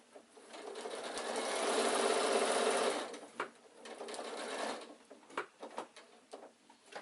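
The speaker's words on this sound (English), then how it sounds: "sew till you can feel the seam through there" A sewing machine runs a long steady stitching burst along the seam of an insulated picnic bag, then stops, followed by shorter start-stop runs and handling clicks, close and fairly loud.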